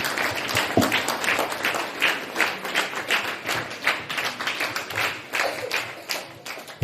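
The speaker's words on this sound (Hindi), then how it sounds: "एक बार जोरदार तालियों से सर का स्वागत।" Audience applause welcoming a school principal onto the stage at a mathematics day exhibition and fair, a steady round of clapping from a crowd with a few sharper nearby claps, fairly loud and alone without talk.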